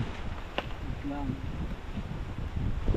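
Wind rushes steadily across the microphone, a low continuous roar, with a brief faint tone and some background activity mixed in.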